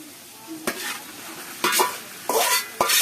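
A few short stirs of chicken cooking in a frying pan, each a brief scraping burst over a soft sizzle with quiet pauses between.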